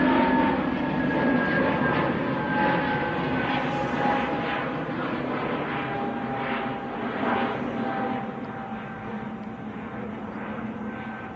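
An EasyJet airliner bound for Tenerife flying past at Manchester Airport, a loud sustained engine roar with a steady whine that slowly fades as it moves away, no talk.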